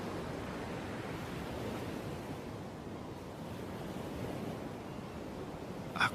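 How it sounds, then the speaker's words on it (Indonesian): Ocean waves surge and roar in a continuous broad wash of surf that stays loud and even, with no voices. "dalam gemuruhnya ombak samudra."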